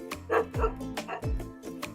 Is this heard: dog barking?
yes